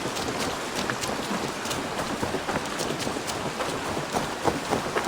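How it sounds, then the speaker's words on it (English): Rain patters on a wooden roof, heard from indoors in Assassin's Creed Valhalla, as a steady, soft, dense hiss of drops with occasional sharper taps and no talking. "you can hear the rain hitting off the wooden roof and stuff"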